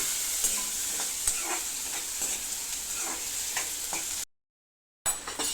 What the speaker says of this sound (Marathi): बघा हे जिरं आलंय, कांदा टाकला. आता हे बघा आता मिक्स करून घेतोय.